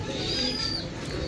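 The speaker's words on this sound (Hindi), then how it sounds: "काफ़ी खूबसूरत ये कबूतर है" Fancy yellow-eyed pigeon in a loft, giving low steady cooing over a dense, busy backdrop of other birds, continuous and fairly close throughout.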